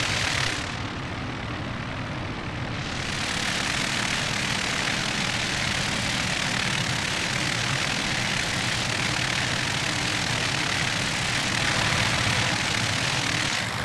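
Twin engines of a Piper PA30 in a flight simulator roar at full throttle with propellers at high speed, a loud, steady, unbroken drone that holds throughout.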